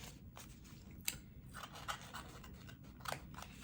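Scissors trimming along the edges of a toilet paper roll craft with a leather-like finish: a faint series of small snipping cuts at an uneven pace, close and quiet.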